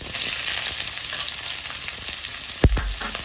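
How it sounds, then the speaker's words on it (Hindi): Onions fried in hot oil in a kadai, a steady bright sizzle throughout with one sharp knock of a utensil near the end. "अब कढ़ाई में हमने तेल चढ़ा दिया था, तेल भी गर्म हो चुका है। अब हम प्याज डालते हैं।"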